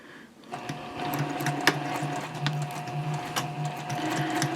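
A sewing machine stitching a fabric circle with Peltex stabilizer inside runs continuously after a brief quiet start, a steady close mechanical whir with faint rhythmic ticking and no voices.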